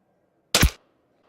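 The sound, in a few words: rifle shot with Zeiss Conquest V4 scope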